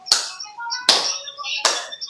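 Three sharp hand claps ring out at a slow, even pace, each crisp and close with a short ringing tail, done as a tapping and clapping exercise.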